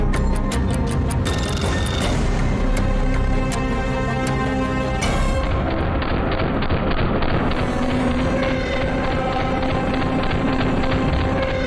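PPSh-42 submachine gun fire heard through a played video, a dense, loud burst of rapid shots at the start that gives way to sparser cracks and a steady noisy wash, with no talk over it.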